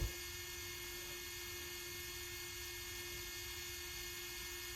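A Fanttik F2 Master cordless 4V rotary multitool runs at its top speed setting of 25,000 RPM with a steady, high-pitched whine. The faint, even motor tone holds constant throughout, with no talking.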